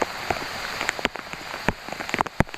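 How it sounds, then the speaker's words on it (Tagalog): Rain patters steadily on a fishing boat out at sea, with sharp, close drops striking the surfaces in an uneven rhythm over a constant hiss. "basang-basa na kami sa ulan"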